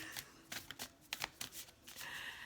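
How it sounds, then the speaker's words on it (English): Tarot cards are shuffled by hand in quick, close riffling bursts, several short flurries followed by a longer soft rustle, quiet and alone. "every time I shuffle cards, they always like come out in a bunch"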